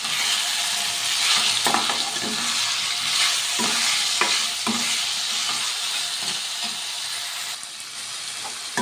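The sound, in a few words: tomatoes with salt cooking and being stirred in pan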